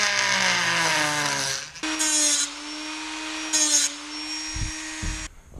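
A power tool trims a fiberglass-repaired car fender, giving a steady, close, high-pitched motor whine that shifts pitch partway through and is broken by a few brief low thumps near the end. No voices.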